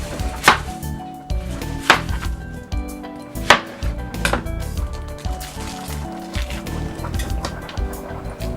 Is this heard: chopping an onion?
yes